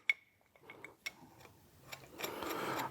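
Bolts run down on a Kwik Performance K10636 alternator and power steering bracket fitted to a big-block Chevy cylinder head: scattered sharp mechanical clicks and ratcheting ticks, then a steadier whirring rasp building near the end, close by.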